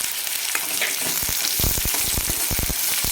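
Chopped onion dropped into hot oil with cumin, bursting into loud, close sizzling and crackling with stirring clatter and rapid popping spits throughout.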